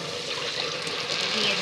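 Hot water poured from a mug into a pot of rice for pulao, a steady close splashing and gushing that runs the whole moment without a break, with no talk over it.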